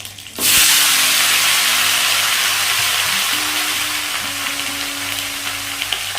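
Cut cucumbers drop into a hot pan and burst into a loud, steady sizzle that holds for several seconds, with faint stirring clicks and no talk.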